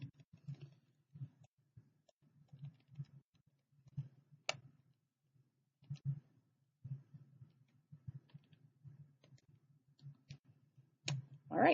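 Soft, quiet clicking of calculator keypad buttons pressed in irregular bursts, each press a small muted tap, with a couple of sharper clicks standing out.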